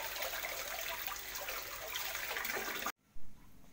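Steady rush of running water from a tap during handwashing, heard close up and continuous until it cuts off abruptly, followed by a brief thump.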